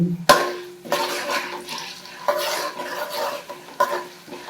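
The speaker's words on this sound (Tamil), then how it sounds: "இப்போ உளுத்தப்பருப்பு இவ்வளோ பருப்பு போடுங்க. கிண்டி" Urad dal stirred in hot oil in a pan for a baby shower lunch, with a sizzle and several loud scraping, clattering strokes of a spoon at uneven intervals.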